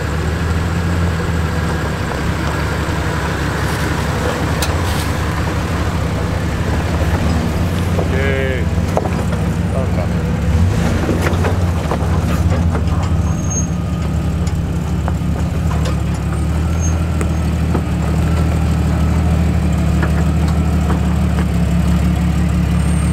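A Jeep CJ engine runs in four-wheel drive while off-roading, a steady low rumble continuing throughout with occasional clunks and rattles, as people talk over it.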